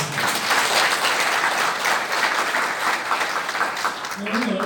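Sustained audience applause at the founding assembly of a conservative group held in the National Assembly members' hall in Yeouido, a thick, continuous roar of clapping at steady volume, with a voice faintly emerging near the end.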